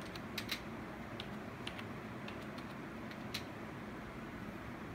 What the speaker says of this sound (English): See, you can see like I'm typing